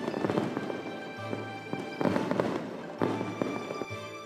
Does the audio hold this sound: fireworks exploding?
yes